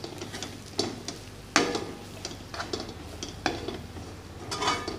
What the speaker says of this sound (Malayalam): അതിനുശേഷം ഇത് നന്നായി ഇളക്കി കൊടുക്കുക.